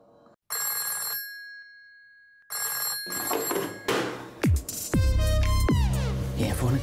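Telephone bell rings in two short bursts with pauses between, then a louder stretch where the ringing continues under other sounds and sweeping tones, fairly close and clear.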